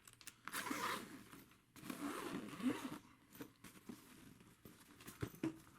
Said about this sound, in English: Let's get this top zipper here.